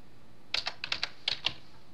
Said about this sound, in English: I'm just gonna type the same command.